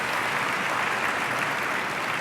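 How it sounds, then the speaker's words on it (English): Audience applause at an awards event for teachers and school staff, a dense, even roar of clapping that fills the room without pause. "So a round of applause for that."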